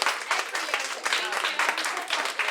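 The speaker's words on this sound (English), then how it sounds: "Y'all, please give yourselves a round of applause" Musical theater workshop participants applaud themselves, a short, steady burst of group clapping with pulsing bursts throughout.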